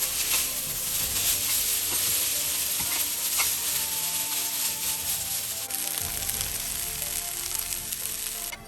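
Chow mein noodles with Chinese sausage hiss and sizzle steadily in a hot pan as they are stir-fried, with occasional soft scrapes of stirring. The frying is close and continuous throughout, and no one speaks.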